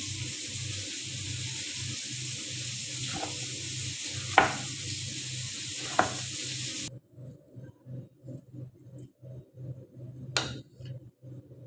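Shrimp sizzle in a hot pan with a steady, even hiss for several seconds. Then the frying fades back and a knife chops tomato on a board with quick, regular strokes.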